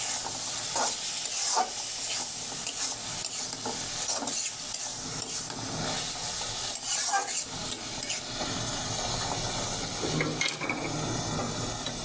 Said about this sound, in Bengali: আমার সবজিটা কষানো হয়ে গেছে, মাছটা এখন আমি দিয়ে দেবো